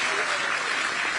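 An audience at a Kamala Harris campaign rally in Pennsylvania claps and cheers, a dense, loud, continuous wash of applause that fills the whole stretch.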